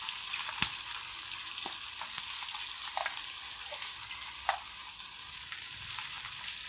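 Vegetarian eel pieces being re-fried in a pan of hot oil, a steady close sizzle with occasional sharper pops and crackles throughout.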